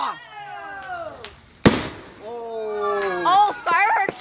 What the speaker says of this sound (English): Oh, fireworks are so loud.